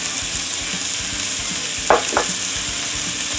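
Steady loud sizzle of beef frying in a hot pan as green pepper goes in, with a couple of brief scraping stirs partway through and no voice.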